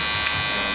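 An electric hair trimmer run over a comb to blend a man's mustache into his big, burly beard at a barbershop, giving a steady close buzz throughout the short moment.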